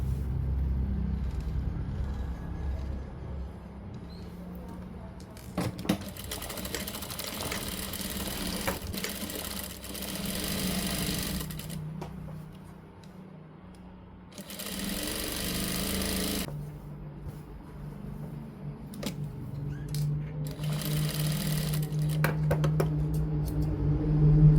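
Sewing machine stitching the sleeve-to-side seam of a frock, in bursts of rapid mechanical whirring and chatter separated by short pauses, close and moderately loud.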